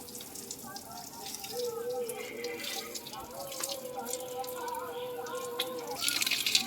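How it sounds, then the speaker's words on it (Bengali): Water running and splashing on a rooftop while plants are watered and the roof is wetted down, a steady close spray with dripping and occasional louder gushes. "গাছে জল দেবো আর ছাদটাকেও ভিজাবো"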